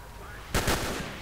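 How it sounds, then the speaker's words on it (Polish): Gunfire in Stalker: Call of Pripyat, a short burst of several rapid close shots fired after a quiet stretch, the reports blurring together into a loud rattling cluster before fading. "Zaczną strzelać, okej. Okay. Zaczęli strzelać."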